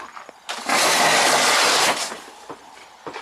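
A snowblower engine cranks and fires, then roars loudly and steadily for over a second before cutting out, followed by a few faint clanks nearby.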